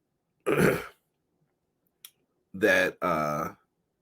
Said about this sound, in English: Sorry for the coughs.